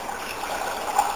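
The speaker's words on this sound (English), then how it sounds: "So what we'll do is we'll get that, and we will pour it into" Pickling liquid for jalapeno peppers poured into a pot, a steady close trickling and splashing stream of liquid running without a break, with no talk.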